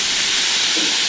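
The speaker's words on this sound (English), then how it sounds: "get a little bit of water. It's in the middle. Create some steam." Water hissing into steam on a hot Camp Chef FTG600 griddle, a continuous broadband sizzle at close range, steady and alone for about a second.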